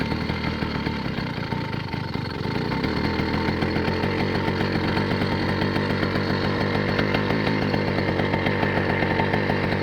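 A motorized bicycle's small engine idles steadily with the clutch pulled in, a loud, close, rapid buzzing putter that holds an even rhythm throughout, with no talk over it.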